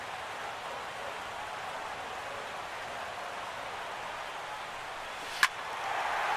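Heavy rain pours down at a Phillies vs Mets baseball game, a steady hiss of falling water heard from a distance, with one sharp crack near the end before the wash of noise thickens slightly.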